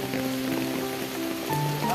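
Heavy rain falls steadily over a rural Kokan field planted with finger millet (nachni) near Dapoli, a dense continuous patter with faint tonal hum and a brief voice-like murmur late on.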